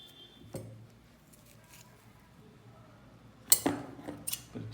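A pair of scissors is handled and opened before sharpening, giving a few sharp metallic clicks and snips with quiet handling noise between them.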